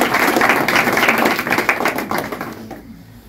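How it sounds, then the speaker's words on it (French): A crowd applauds a nervous speaker at a remembrance gathering, a dense, loud wash of clapping that holds steady and then quickly dies away at the end. "On va applaudir parce qu'il est stressé."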